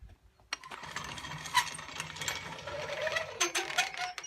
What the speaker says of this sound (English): I'm now going to tension the line on the trailer winch